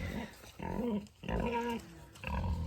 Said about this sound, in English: Morning, pig.